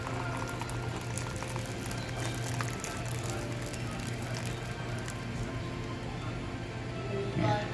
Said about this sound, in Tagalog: Yan natin ang mainit na tubig.